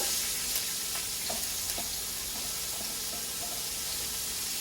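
Carrots, onions, celery, garlic and bay leaves sizzle steadily in a hot pan after short ribs were seared, with a constant frying hiss and a few faint stirring clicks.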